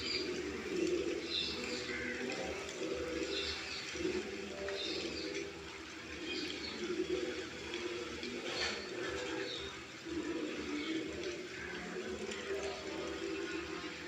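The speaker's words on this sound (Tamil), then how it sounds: "நல்ல பறவைகள் சத்தம் எவ்வளோ அழகாக கேட்குது பார்த்திங்களா" Several birds call and coo amid a steady wash of running rainwater, with soft chirps scattered throughout and no clear talking.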